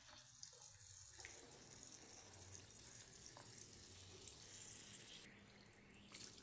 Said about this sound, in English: I'm going to fill in water in this container and cover it up